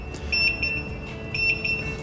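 An industrial laundry washing machine gives out a high electronic alarm, a few short beeps in two quick clusters over a steady hum.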